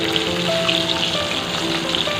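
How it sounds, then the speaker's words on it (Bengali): Fish frying in very hot oil in a home Bengali kitchen, a steady close crackle and sizzle that continues evenly throughout, with no talking. "মাছটা ভাজা এক পাশ মনে হয় হয়ে গেল"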